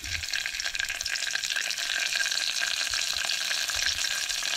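Spices crackle in hot oil for a tempering for dal, a dense, steady frying sizzle close up with light low thumps and no voices.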